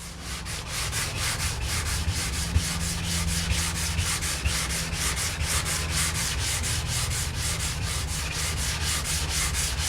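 A wooden table top is sanded by hand with 120-grit sandpaper, giving steady rhythmic scratchy strokes of even loudness that run close-up for the whole stretch over a low background hum.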